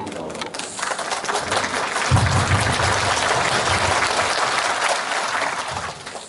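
An audience at a safety training session for academy and tutoring-centre operators in Gumi claps steadily, a full, close wash of applause that rises slightly partway through and holds, with a voice speaking over it.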